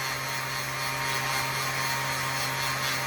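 A rotary tool drills a hole in a labradorite cabochon, giving off a steady, bright whine with a constant hum beneath it and no pauses.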